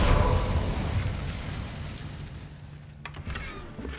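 A fiery burst from the Incendio spell in Hogwarts Legacy, a loud whooshing blast at the start that fades into a crackling rumble, then a sharp pop near the end.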